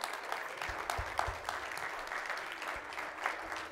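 A church congregation claps together in a dense, steady round of applause that holds at an even level throughout, with no voices standing out.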